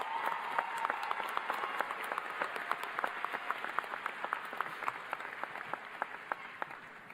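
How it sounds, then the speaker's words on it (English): Audience applause at a university graduation ceremony, a steady crowd of many hands clapping throughout, sustained at a moderate distance with no speech. "Let's give him a big round of applause."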